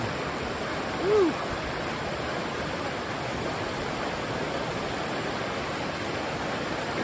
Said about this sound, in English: Well, we crossed the river.